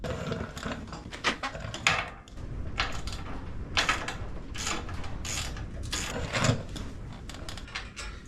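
Metal clicks and ratcheting clatter from a wrench tightening half-inch bolt nuts on the swing motor cushion valve of an AGT QH12R Chinese mini excavator, close up, in irregular bursts.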